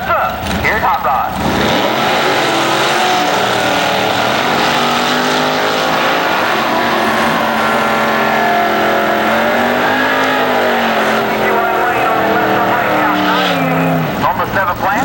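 Drag racing cars, including a red Camaro, run at an IHRA race in Farmington, giving a loud, sustained engine roar with shifting pitch while an announcer talks over a PA throughout.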